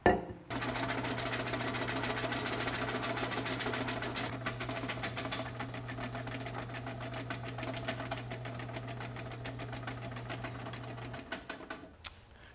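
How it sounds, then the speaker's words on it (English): A Molinito masa grinding machine runs with a steady motor hum and a rapid mechanical rattle for about eleven seconds, then winds down and stops. "So I'm gonna turn on the machine, I'm gonna feed it for a few seconds"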